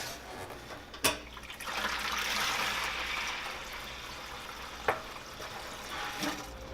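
Roughly a gallon of leftover liquid poured out of a conical beer fermenter during cleaning, a steady splashing gush of water running for several seconds between two sharp knocks, with no talking.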